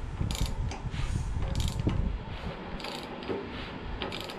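A hand ratchet turns over a VW Beetle engine fitted with an aftermarket serpentine belt kit, giving repeated close, crisp clicking strokes in irregular bursts over a low mechanical rumble.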